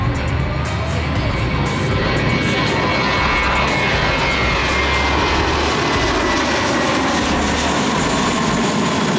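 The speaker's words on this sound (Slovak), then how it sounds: "Veľké dopravné lietadlo." Large passenger airplane at Gibraltar airport, a loud, continuous roar of jet engines nearby, broad and steady throughout with no pause.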